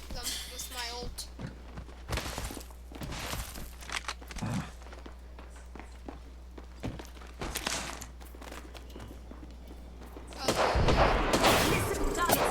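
Gunfire in the Apex Legends video game: repeated sharp shot bursts scattered across the clip, with a denser, louder volley of fire near the end.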